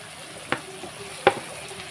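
Tomato pieces drop into onions frying in a pan, giving two sharp clattering bursts over a low, steady background sizzle.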